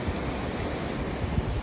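Steady rushing water of a mountain stream in the hills near Dhunche, flowing on toward the Trishuli river, a broad continuous wash that stays close and even throughout with no voices.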